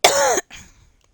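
A single harsh allergy cough bursts out close to the mic, followed by a shorter, softer throat-clearing rasp that fades quickly.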